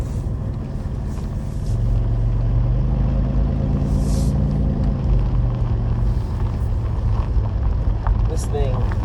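A 1996 Buick Regal with the 3800 engine cruising along, its steady low engine and road rumble swelling after a couple of seconds and holding constant, with a voice talking over it.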